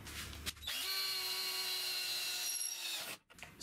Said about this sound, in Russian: Сначала испытаем сверло до заточки.